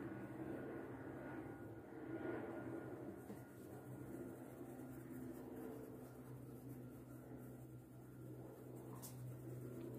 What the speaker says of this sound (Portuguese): É bem próximo ao aeroporto, então passa avião o dia todo